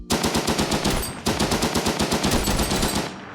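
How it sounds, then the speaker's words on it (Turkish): Rapid automatic gunfire from a weapon in the shooter game Frontline Inferno, two loud, close bursts of evenly spaced shots with a brief pause between them. "Bak bu silah güzel vuruyor mesela"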